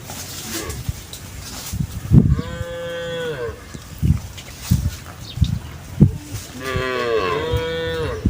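Cattle moo repeatedly in an open rice field beside a road, with long loud calls close by, separated by shorter low grunts and lowing.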